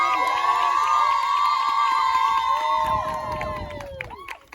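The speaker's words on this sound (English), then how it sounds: "Let's give them one more round of applause." Children and adults cheer and shout for children's church graduates, a loud sustained crowd yell with high children's voices, fading into scattered clapping and chatter at the end.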